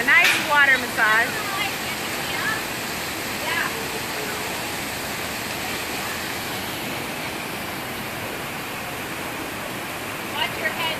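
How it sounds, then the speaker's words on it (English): High-pressure water sprayers at an orca pool hiss as a steady, broad rushing wash, with a few faint high whistles and calls near the start and end. "you'll notice them interacting more with the sprayers closer to our slide out area. Those are higher pressure"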